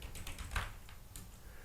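Keys clatter on a computer keyboard as a command is typed, a quick run of soft close taps with no talk.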